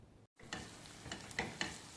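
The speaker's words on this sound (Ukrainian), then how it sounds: "буду смажити нарізану цибулю" Chopped onion fries in a pan with a soft, steady sizzle and a few light stirring scrapes. Faint and close, it cuts out briefly near the start before resuming.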